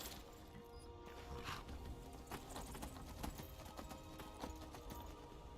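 Horse hooves clip-clopping in the video game Skyrim, a quiet, steady run of hoof beats over a faint, low background, with no talk.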